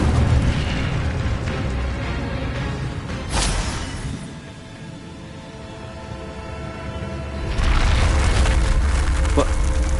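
An Incendio fire spell in Hogwarts Legacy erupts in a loud, roaring burst, swells, fades into a low rumble, then flares up again, loud and close.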